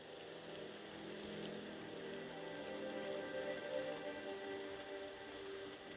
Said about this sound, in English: High above your head, the sound of rain falls against the treetops.